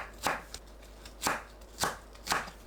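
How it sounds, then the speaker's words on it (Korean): Four sharp knife chops cut green onions on a slant against a cutting board, each stroke a crisp thud spaced about half a second apart, close and clear with no voices. "파는 어슷 썰어줍니다."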